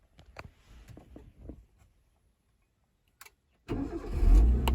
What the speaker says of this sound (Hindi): तो ये हो गया गाड़ी स्टार्ट दोस्तों।